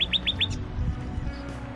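Four quick, high bird chirps in rapid succession, clear over a low steady rumble of outdoor background noise on the Manistee River, Michigan.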